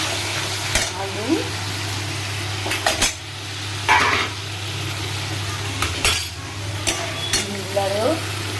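Potatoes tossed into a pan of cooked-down spice paste for an egg curry, stirred with a metal spoon: sizzling under a steady hum, with scraping and clinking strokes against the pan at irregular intervals, close up, no talk.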